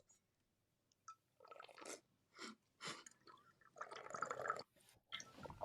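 Someone sips water straight from a bottle with no straw, producing a series of short, wet slurping bursts separated by brief pauses, close and fairly quiet.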